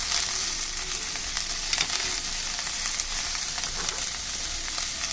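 Onions and celery fry in a pan with a dense, constant close sizzle and a few faint stirring clicks, with no talking.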